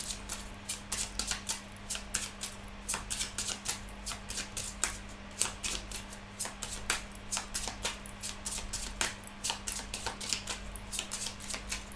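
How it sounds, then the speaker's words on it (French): Cards being drawn from a 32-card deck, with sharp, rapid crisp clicks and flicks that repeat irregularly, close and fairly quiet over a steady low hum. "Alors on va prendre 3 cartes du jeu de 32."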